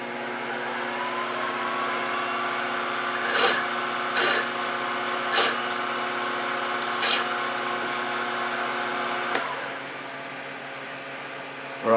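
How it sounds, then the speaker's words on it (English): A quarter-inch stub drill cuts a tap start hole in a steel mill vise hand wheel, with a steady machine drone and motor whine marked by several short scraping bursts. "I'm making do with stub drills. This is a quarter, just to give me my tap start."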